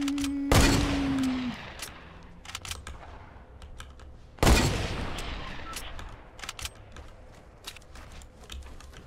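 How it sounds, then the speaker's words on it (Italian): Gunfire in the video game Fortnite: two loud, sharp shots several seconds apart, each with a ringing decay, followed by scattered faint clicks and distant pops. "Hanno sparato."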